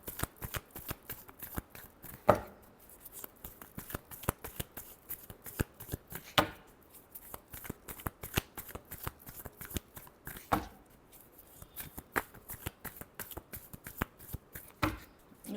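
Tarot cards are shuffled by hand in quick, close, crisp riffling bursts and flicks with a few sharper slaps, soft overall and without talking.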